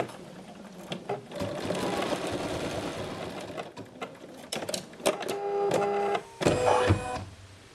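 An embroidery machine stitches a cover stitch over a watermelon rind design in the hoop, its rapid rhythmic needle chatter running close and steady, pausing briefly, then resuming in short bursts.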